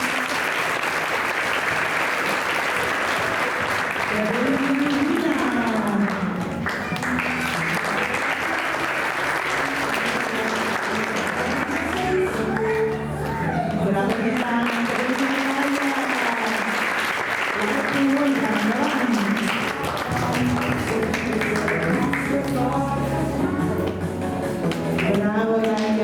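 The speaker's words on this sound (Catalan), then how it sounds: "Aplaudiment per Nacaman." Sustained audience applause at a school end-of-year recital, dense steady clapping throughout with a voice speaking over it at times.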